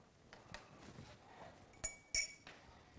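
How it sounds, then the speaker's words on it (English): A Buck cocktail made with spicy ginger beer gets a soft stir, with quiet ice movement and two bright clinks of a spoon against the glass in a near-silent room. "to integrate all the ingredients together, just a soft stir"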